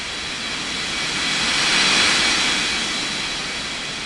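A jet airliner on approach in an air traffic control game gives off a loud, broadband engine roar that swells to a peak and then slowly fades as the plane passes, with no voices over it.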